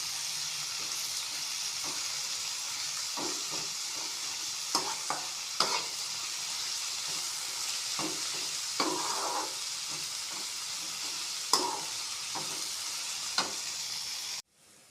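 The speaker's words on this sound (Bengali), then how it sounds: "এটাকে 5 মিনিট মতো ভাজতে হবে অল্প আছে। আপনারা মিডিয়াম আঁচেও ভাজতে পারেন।" Vegetable fried rice frying in a pan sends up a steady soft sizzle, broken by scattered scraping clicks of a spatula stirring through it, with no one talking.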